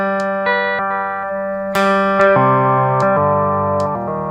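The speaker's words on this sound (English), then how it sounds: "you can also get some nice pitch shifting effects with it" Eventide Rose delay pedal producing pitch-shifted delay repeats on a sustained electric guitar chord, with stacked harmonies stepping up and down over about four seconds, steady and fairly loud with no talking.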